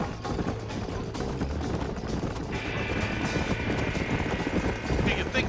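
Horse hooves gallop in Red Dead Redemption, a steady rapid clip-clop under game music and ambience, with rattling tack and voices talking over it.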